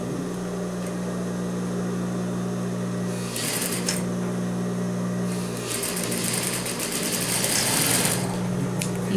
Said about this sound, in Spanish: vamos a cerrar igual aquí, que las dos extremos de la pretina queden juntos y cerramos